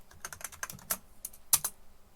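Tab key pressed on a computer keyboard: several light, quiet plastic key clicks at uneven intervals, with one sharper press near the end and no talking.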